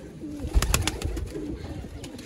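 Pigeons from a flock of about 140 birds kept for sale, low soft cooing calls repeating close by with some flutter and background noise, no speech.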